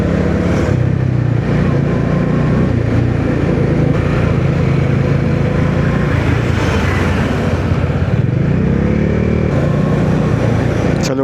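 A Bajaj Dominar 400 motorcycle pulls out to overtake on the open road, its engine droning loud and steady under heavy wind rush for the whole stretch, with no clear rise in pitch.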